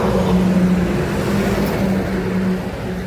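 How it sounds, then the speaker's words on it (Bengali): Trucks pass one after another on a road in North Bengal, a loud continuous roar with low rumbling that swells and eases slightly, heard close with no talk. "পরপর ট্রাক যাচ্ছে, তো আওয়াজের জন্য আমি কথাটা কেটে কেটে বলছি।"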